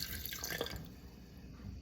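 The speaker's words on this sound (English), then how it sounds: "it also calls for 3/4 cup of water. So I'm going to go ahead and pour that in as well." Three-quarters of a cup of water pours into dog cake batter, a short splashing, gurgling stream that is strongest at first and then tapers off, close by with no talking.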